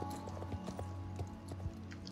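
Horse hooves clip-clopping on a stable floor, a black horse nearby, with several irregular soft thuds over a steady low hum and faint background noise.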